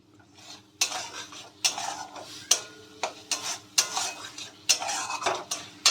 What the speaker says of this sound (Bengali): চালটাকে আমরা সামান্য ফ্রাই করে নেব মশলার সঙ্গে